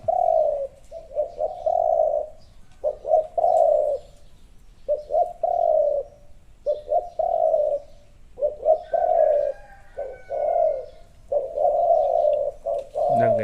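A spotted dove coos repeatedly in steady rhythmic phrases, close and clear, with a faint chirp from another bird partway through.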